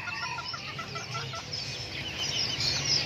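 Chickens cluck and chatter steadily in a noisy coop, several birds close by with a faint higher call near the end.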